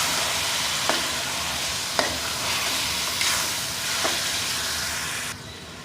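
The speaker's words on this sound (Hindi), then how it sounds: "और अब मैं इसके अंदर शामिल करूँगी टमाटर, तकरीबन 6 टमाटर, और अब इसे अच्छे से हम मिक्स कर लेंगे" Tomatoes, about six of them, stirred into mutton karahi frying with onions, giving a steady sizzle with a few soft spoon scrapes and knocks against the pan, close and continuous with no talk.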